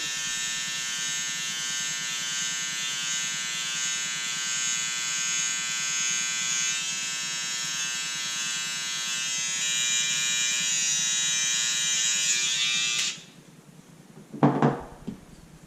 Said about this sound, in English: After that's done, I come again with my trimmer. I'm just gonna mark my line again.